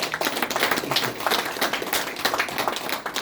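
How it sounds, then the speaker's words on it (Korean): An audience at an academic event marking a professor's sixty years of research claps warmly and steadily throughout, a dense patter of many hands close by with no talk over it. "뜨거운 박수를 좀 보내주십시오"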